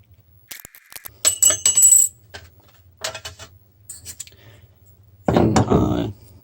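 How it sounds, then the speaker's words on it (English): Tin snips cut a small rectangular piece of metal roofing flashing, giving a few close, sharp metallic crunches and clicks in short bursts separated by quiet pauses. "so I'm just going to cut it with these tin snips"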